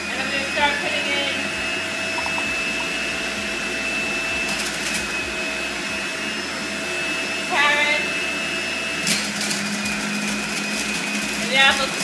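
A Breville multi-speed juice fountain running at higher speed, a constant loud high-pitched motor whine with intermittent grinding bursts as produce is pushed through, and a person speaking over it.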